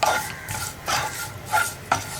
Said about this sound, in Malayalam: ഇത്രയും ചേർത്തിട്ട് നന്നായിട്ടൊന്ന് ഇളക്കി മിക്സ് ചെയ്യുക.